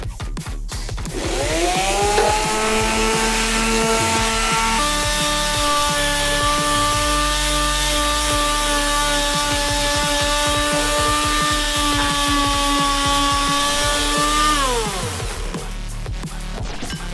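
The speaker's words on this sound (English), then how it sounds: "So let's get sanding." A power sander working wood whines steadily at close range, a loud sustained motorized drone that starts, holds for over ten seconds, then winds down.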